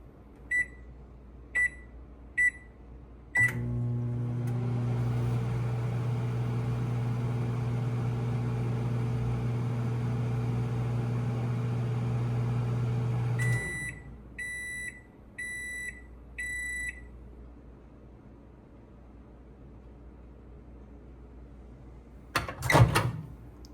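A GE JES1451DS1BB microwave oven beeps several times as it is set, hums steadily for about ten seconds, then sounds a run of end-of-cycle beeps, followed by a door clunk near the end.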